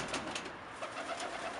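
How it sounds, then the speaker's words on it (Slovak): Domestic pigeons bred in a shop coo softly, a few low burbling calls at close range amid quiet indoor background. "toto sú všetko naši odchované holuby"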